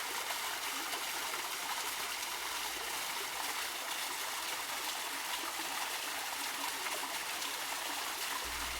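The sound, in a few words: waterfall and flowing water in a garden pool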